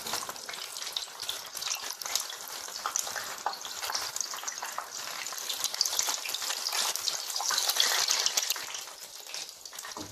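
Potato cheese balls deep-frying in hot oil while being stirred and turned, giving a steady, close, bright sizzle with crackling bursts throughout, no voices.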